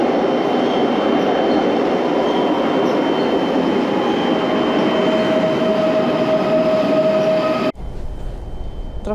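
An EIC Wisła intercity train bound for Berlin pulls into a Warsaw station, giving a loud, steady rolling rumble and rail hiss with a faint wheel squeal that cuts off abruptly near the end.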